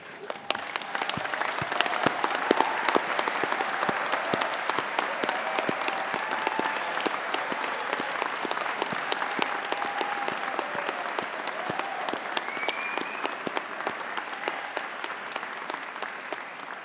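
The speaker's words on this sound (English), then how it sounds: "join me in a round of applause for all those that have helped you get to where we are today" Graduates at a Swinburne graduation ceremony applaud their family and friends, a sustained, even roar of many people clapping heard from some distance across a large hall, with no break for about seventeen seconds.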